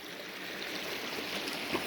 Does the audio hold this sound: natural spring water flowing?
yes